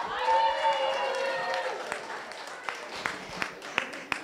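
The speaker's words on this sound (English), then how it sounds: "let's give her a round of applause" A wedding crowd claps and cheers loudly at first, the applause thinning into scattered claps toward the end.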